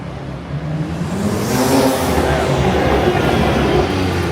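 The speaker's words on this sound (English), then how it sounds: "so you can literally go fast for 2 seconds and make a loud noise on Broadway" A car on Broadway in Midtown Manhattan accelerating hard with a loud, sustained engine roar that swells and holds close by amid street noise.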